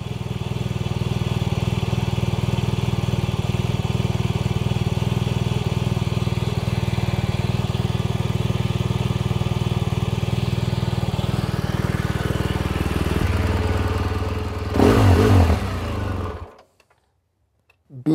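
BMW GS1200 Adventure motorcycle engine running steadily at idle in a garage, a loud continuous drone with a brief rev near the end before it cuts to silence.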